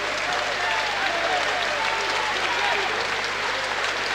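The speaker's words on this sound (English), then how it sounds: "he deserves that applause." Steady, continuous applause and crowd noise fill a boxing venue after Anthony Campbell's fight with Georgie Smith, a commentator speaking over the constant roar throughout.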